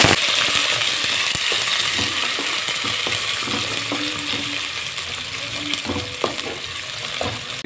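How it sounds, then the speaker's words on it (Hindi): Onion frying in ghee left from frying carrots for a matar gajar pulao, giving a steady close sizzle with occasional scrapes and clinks of a stirring spoon, no voices. "ये अब इस घी में हम डालेंगे जिसमें हमने गाजर को फ्राई कर दिया है। अब इसमें हम डालेंगे प्याज।"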